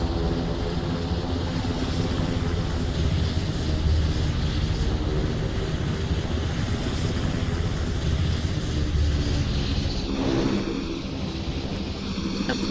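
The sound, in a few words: aircraft flying at airshow in Roblox PTFS video game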